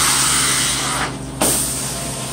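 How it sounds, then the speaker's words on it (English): A carpet cleaning wand blasts steam onto a Berber carpet, making a loud, steady close hiss that dips briefly as the wand shifts, then surges back. "This is actual steam coming out of this wand. It's not just hot water, it's steam"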